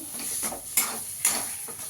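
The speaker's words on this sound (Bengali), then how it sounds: "এখানে আমি একটু চিনি দিয়ে দেবো। ভালো করে মিশিয়ে নেবো।" Sugar is stirred into a filling for pur bhora papor frying in a pan, with a steady scraping of spoon or spatula and a soft sizzle underneath, punctuated by two sharper knocks against the pan.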